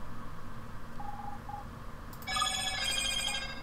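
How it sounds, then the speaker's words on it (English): A telephone rings in the game My Time At Portia. A couple of faint beeps come first, then a bright, loud, warbling ring starts and keeps going to the end. "Oh, there's the phone."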